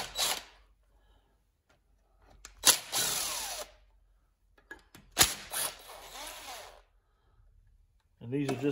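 A power driver backs off the valve cover screws on a John Deere and Suzuki outboard motor build in two separate whirring bursts, each a second or two long, with quiet gaps between and a voice at the very end.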